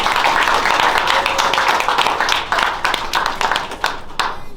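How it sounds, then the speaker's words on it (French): Wedding guests clap together at a twentieth-anniversary celebration in Quebec City, a dense, steady patter of many hands that carries on throughout and thins slightly toward the end. "Donc applaudissez pour vous aussi."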